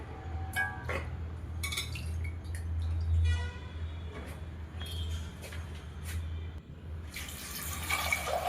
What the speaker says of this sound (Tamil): ஒரு அரை செம்பு தண்ணி ஊற்றிருக்கேன்.